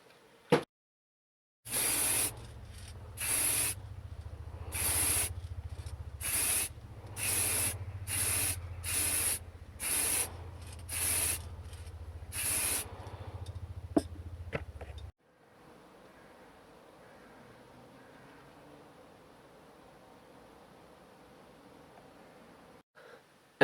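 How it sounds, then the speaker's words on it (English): Black gloss aerosol spray paint goes onto a Hornby 0-4-0 model locomotive outdoors in about ten short, hissing bursts with brief gaps, close and fairly loud, followed by quiet ambient background. "I'm going to go and spray it outside with this Auto Extreme Black Gloss Spray Paint from Poundland."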